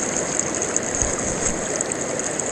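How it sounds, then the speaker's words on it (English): Water runs steadily through a gold sluice outdoors, a continuous, even rushing and trickling flow with a faint bubbling texture, close and unbroken with no voices. "I just love the sound of a sluice, letting the water trickle by."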